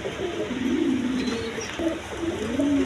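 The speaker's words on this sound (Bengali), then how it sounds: "দর্শকবৃন্দ এখানে এক পেয়ার ডেনিশ কবুতর আছে" A pair of Danish pigeons coos nearby in soft, low, rolling phrases, two bouts close together over a faint steady background hiss.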